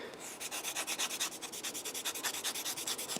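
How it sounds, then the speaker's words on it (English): A handheld sanding stick scrubs quickly back and forth over a nub mark, a close, rhythmic series of about two dozen rasping strokes. "sanding stick will take quite a bit off, which is the purpose"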